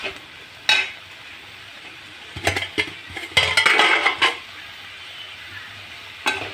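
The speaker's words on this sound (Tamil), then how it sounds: "அதை போட்டுக்கோங்க நல்லா கிளறி விடுங்க தக்காளியோட கலந்து வரட்டும்" Ridge gourd pieces stirred with tomato in a pan, with scattered scraping clinks of a utensil against the pan over a faint sizzle, in short bursts separated by quiet.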